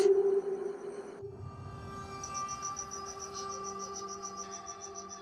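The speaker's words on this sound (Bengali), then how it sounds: "আর ঝিঝি পোকার ডাক" Steady, high-pitched cricket chirping pulses on and on in a quiet nighttime setting, after a brief burst of tonal background sound at the start.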